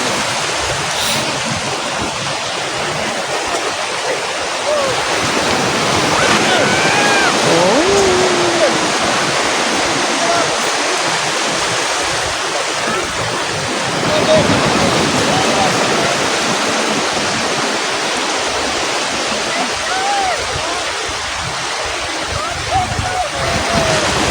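Steady roar of surf washing onto a beach in Batangas, Philippines, continuous and fairly loud throughout, with occasional faint voices and bird-like chirps in the background.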